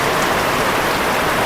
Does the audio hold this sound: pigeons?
no